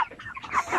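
Native chickens give a quick burst of clucks, several short nasal calls close by in under a second, with no talk.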